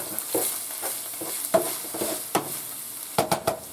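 Ground beef for a hamburger bean bake casserole sizzles in a pan while a spatula scrapes and stirs it, with several sharp, close scraping strokes over a low sizzle and no voices.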